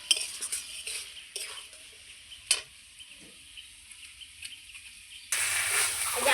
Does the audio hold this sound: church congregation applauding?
no